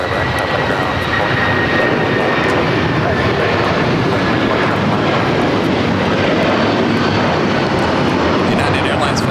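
An airliner roars loudly and continuously at Los Angeles LAX airport, a dense broadband engine rumble with a faint whine on top, close and dominant throughout.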